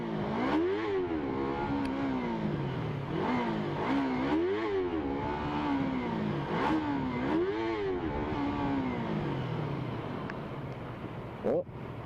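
A Yamaha R25 motorcycle accelerating in second gear, its engine note rising and falling in repeated rev surges, loud and close, with a rider talking over it.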